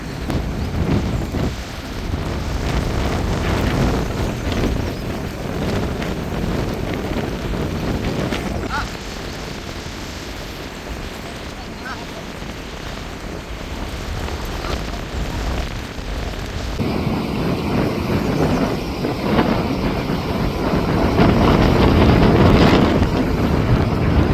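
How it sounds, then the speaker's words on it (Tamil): Strong wind gusting across a fishing boat out at sea, a steady broadband roar that buffets the microphone for the full stretch and swells louder toward the end, with a faint voice underneath at times. "காற்று கொஞ்சம் கூடுதலாக இருக்குது"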